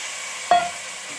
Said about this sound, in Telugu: ఇప్పుడు మనం ఈ వంకాయల్ని నూనెలో వేసేద్దాం